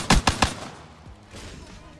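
Three quick, loud pistol shots in Black Ops 3 in fast succession, followed by a low, busy game-world rumble.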